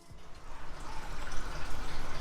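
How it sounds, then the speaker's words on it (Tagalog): Water poured into a cooking pot while preparing Tausug tula itum, a continuous splashing, gurgling stream that builds in level as the pot fills, close by and without talk. "Lalagay ko ng tubig."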